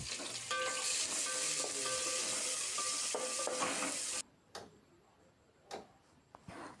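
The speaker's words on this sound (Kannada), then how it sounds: "ಈರುಳ್ಳಿನ ನೀಟಾಗಿ ಫ್ರೈ ಮಾಡ್ಕೋಬೇಕು" Chopped onions frying in hot oil for Kannada-style tomato bath, giving a steady loud sizzle with stirring clatter for about four seconds, then dropping to quiet with a few scattered clicks and taps.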